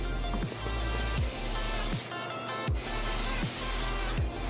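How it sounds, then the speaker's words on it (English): Short hissing bursts from an aerosol can of cooking spray, two or three quick sprays separated by pauses, close and fairly loud. "I like to give them another spray on top of this cooking spray."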